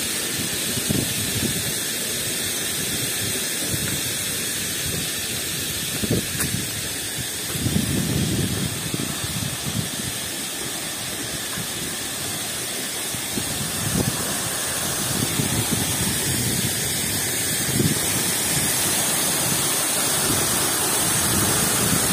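Steady broadband rush of a waterfall in Chư Prông, Gia Lai, swollen in the rainy season, heard close and continuous with no talking.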